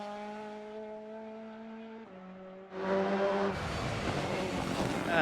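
A rally car driving fast on a forest stage in the Eastern European Rally Championship, its engine holding a steady high whine that drops on a gear change, then a louder rush of broadband roar as it passes close.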